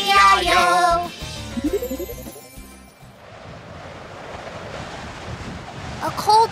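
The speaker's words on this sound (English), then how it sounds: "A cold wind is blowing." Steady wind whooshes and rushes for several seconds in a children's toy show, following a short burst of bright music.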